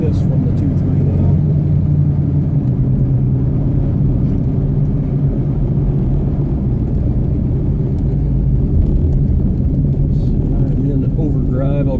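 1980 Buick Regal driving at steady speed with a low, constant engine and transmission drone and road rumble inside the cabin, while someone talks over it throughout.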